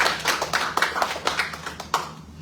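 A church congregation claps hands in a quick, fairly regular rhythm, crisp repeated claps heard close with little else.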